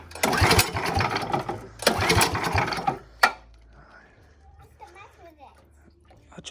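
A small go-kart engine is pulled over for starting, giving two loud bursts of rough mechanical clatter and a sharp knock. It then drops to quiet handling noises.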